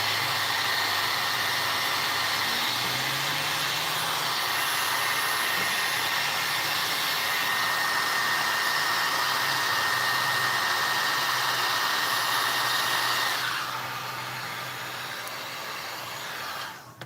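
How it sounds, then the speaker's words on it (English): A heat gun blows hot air in a steady, close whooshing drone that holds evenly, then drops in level near the end as it winds down. "Heat gun. Love these things."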